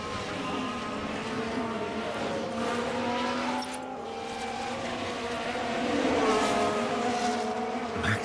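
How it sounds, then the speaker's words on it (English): A Red Bull Formula 1 car in F1 Manager 24 screams past in an overtake, its high engine whine rising and falling through gear shifts, loud and sustained amid other race cars, with faint commentary underneath. "Perez pulls off yet another overtake."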